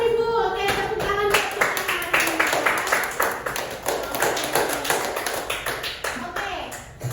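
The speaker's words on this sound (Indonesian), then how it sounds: "Oke, tepuk tangan." A school class claps together in a classroom: crisp, evenly spaced hand claps in a fast steady rhythm that carries on for several seconds, led in by a brief voiced cheer at the start.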